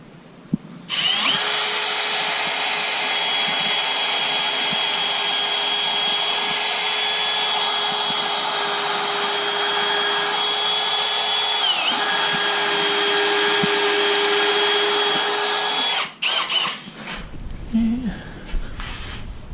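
A power drill bores through the wood of a custom workbench, a loud steady whine running continuously for about fifteen seconds with a brief pitch dip midway, then cutting off abruptly followed by faint handling clatter.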